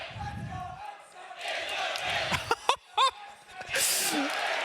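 A crowd at the Six Berlin Major esports semi-finals chants "Let's Go XSET" in swelling waves, with a few nearby voices talking over it.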